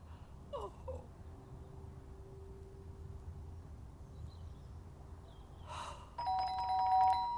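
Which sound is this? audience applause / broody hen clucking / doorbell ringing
doorbell ringing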